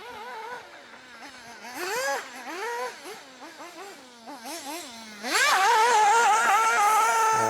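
A small RC car on a mini racing club track whines with rising and falling electric motor pitch as it accelerates and brakes through corners, ending in a loud, sustained high-pitched run.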